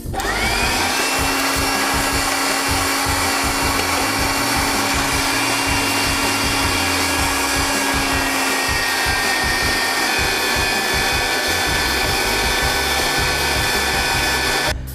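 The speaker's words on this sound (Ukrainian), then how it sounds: "Для цього нам треба буде м'ясорубка." Electric meat grinder running steadily as it grinds cooled cooked eggplants, a loud continuous motor whine with a constant hum under it, close by, no speech.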